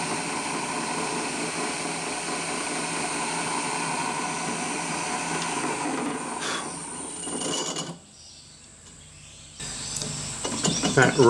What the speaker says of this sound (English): That rattling noise you can hear when the drill slows down is the pull gear in the drivetrain of my drilling